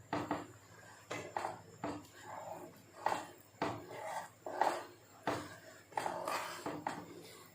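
A spoon scrapes and clanks against a pot while vegetable soup is stirred, about a dozen rhythmic strokes roughly every half second, close and fairly quiet, with no talk.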